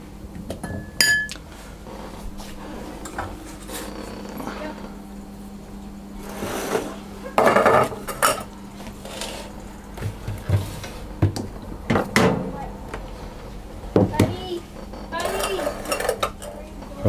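Light almond cupcake batter is spooned into paper cupcake cases, with repeated clinks and scrapes of a metal spoon against a bowl and tray, irregular and close, over a faint background hum.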